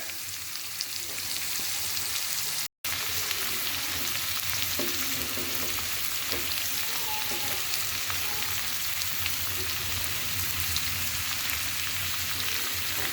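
Carrots fry in a pan with a loud, continuous sizzle and occasional stirring scrapes, steady throughout with one brief cut.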